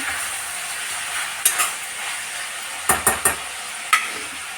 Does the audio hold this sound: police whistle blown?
no